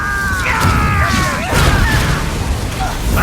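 Incendio fire spell cast in Hogwarts Legacy, a sudden whooshing burst with crackling combat effects and sweeping tones, loud and close amid game sounds and a character's voice.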